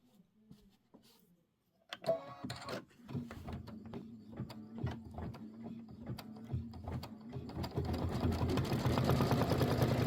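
An embroidery machine stitches a fabric tack-down for a Kimberbell pillow, starting up after a quiet moment with a rapid, steady mechanical chatter of stitches and a motor hum that grows louder and denser near the end.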